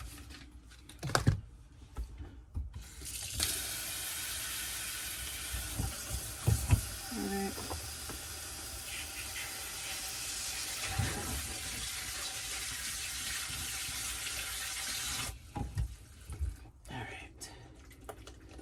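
Tap water runs steadily into an RV sink for about twelve seconds while vegetables are rinsed, a broad, even hiss that starts and stops abruptly, with a few clatters around it.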